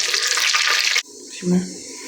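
Whole cumin, cardamom and cinnamon hit hot oil with a loud, bright sizzle for about a second, then the frying drops to a softer crackle with a brief low clatter from the pan.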